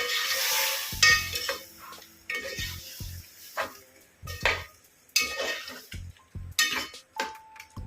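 Yogurt and chilli mixture stirred in a pan for paneer gravy, with repeated scraping and clinking of a spoon against metal, irregular close strokes between soft sizzling.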